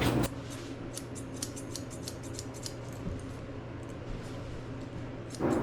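Curved chunker shears snip steadily through a Bichon-Poodle mix's head hair during grooming, a quick run of soft, close cuts with no talking.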